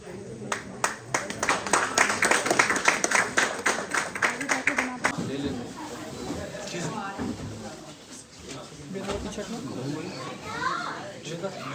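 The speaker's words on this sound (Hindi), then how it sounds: "तालियां बजा दो।" Hands clap in a quick burst of applause at a retirement ceremony, lively and close for several seconds, then fade into crowd chatter and children's voices as people talk nearby.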